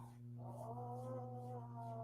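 A pet cat gives a brief, drawn-out yodelling moan, close and fairly quiet over a constant low hum.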